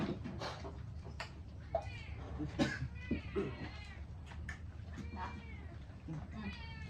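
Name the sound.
cat meowing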